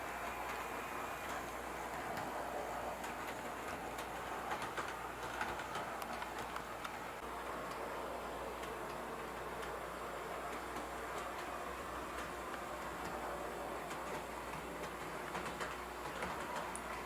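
An HO scale model train locomotive runs on a home layout with a steady, continuous mechanical whir and faint rhythmic clicking of the wheels. The sound is even and moderately close throughout, with no talk.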